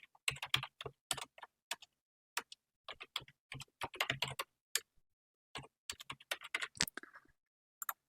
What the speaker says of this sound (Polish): Z klawiatury robimy to tabulatorem.